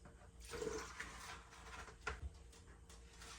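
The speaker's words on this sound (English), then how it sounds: "so I'm going to go ahead and pour it in with my beans." Water pours steadily into a pot of red beans with a continuous rushing splash that lasts a few seconds, close by, with no one talking.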